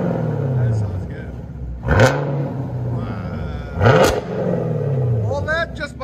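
A 2021 Chevy Camaro LT1 with a 6.2L V8, straight-pipe exhaust and active exhaust valves revs twice in sharp, loud bursts over a deep rumbling idle, with someone talking in between.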